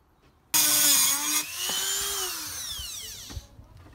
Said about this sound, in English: Solar powered Dremel now.